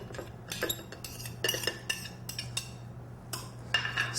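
Spoon stirring chopped pepper, mint, garlic and fresh parsley for a preserved lemon relish in a bowl, giving a series of close, light scraping clinks in irregular bursts over a steady low hum.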